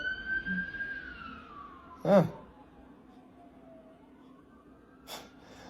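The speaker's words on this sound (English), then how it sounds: "The sirens just went by." A siren wails and slowly falls in pitch as it fades into the distance, interrupted by a short loud snort-like noise nearby.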